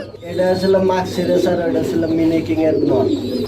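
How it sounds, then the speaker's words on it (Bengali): Mini maxi color king and maxi racer pigeons cooing with a baby, low throaty coos running under loud, continuous close-up male speech throughout. "এখানে রয়েছে বেবি সহকারে এক পিয়ার কবুতর"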